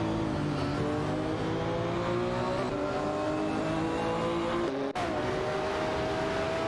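A McLaren F1 LM and a Porsche 911 GT1 racing in a video game, engines droning and revving steadily with rising and falling pitch, a brief gear-change dip near the end, loud and continuous.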